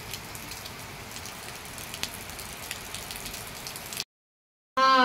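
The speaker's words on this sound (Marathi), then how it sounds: "संध्याकाळचा पाऊस चालू आहे, बघू शकता खूप पाऊस येतो इकडं." Heavy evening rain falls steadily as a soft continuous patter for about four seconds, then cuts off abruptly before a brief burst of a different louder sound.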